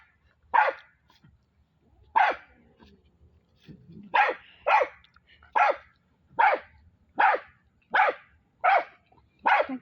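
A dog barks repeatedly at close range, about ten sharp single barks spaced roughly a second apart, with faint background noise between them.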